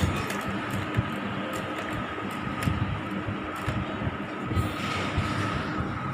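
A sewing machine runs continuously while stitching a shirt stand collar, a steady close mechanical whirring rattle with soft repeated beats throughout.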